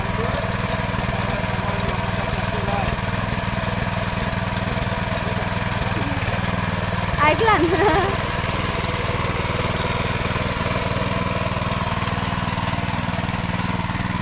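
A tractor engine runs in a paddy field during rice sowing in the Konkan, giving a steady, unbroken idling drone throughout, with a brief louder surge midway and a short spoken remark.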